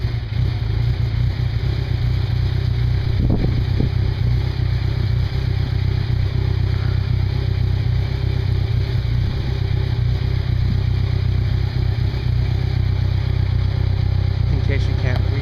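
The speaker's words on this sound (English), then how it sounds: "here's the video I took of the CS1 exhaust without the baffles" A 2012 Kawasaki Ninja 1000 fitted with an Urban Brawler CS1 exhaust, baffles removed, idles with a steady, close, throaty rumble, with a brief blip of revs early on and constant mechanical clatter.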